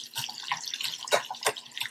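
A little water is poured into a sour noodle mix made with Kool-Aid powder, giving a few close, brief splashy drips and trickles in irregular bursts, with no talking.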